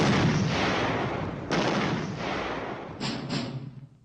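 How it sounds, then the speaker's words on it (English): Troops test firing weapons on a firing range at Grafenwöhr during a U.S. Army 24th Infantry Division training exercise, with heavy, continuous booming gunfire and sharp reports around 1.5 and 3 seconds, loud and rolling with no one speaking. "the troops took up positions on the range and began test firing their weapons"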